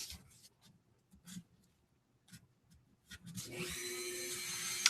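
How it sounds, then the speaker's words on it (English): A Dremel rotary tool starts up and grinds into craft foam while shaping a Destiny Vex Goblin prop's feet and head, a steady close whine joining after a few quiet taps and knocks. "Aw, the Dremel, I missed you."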